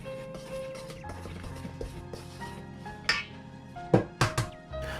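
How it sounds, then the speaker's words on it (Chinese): Chopsticks stir a dry mix of flour, baking soda and yeast in a bowl, tapping and clinking against the sides. The sounds are quiet and scattered, with a few sharper knocks near the end. "先用筷子将干粉混合均匀"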